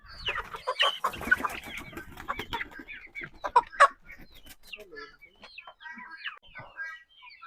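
Home-raised backyard chicken clucking and squawking in agitated bursts as it is caught for cooking, loud close calls that grow sparser and fainter, with some talk mixed in.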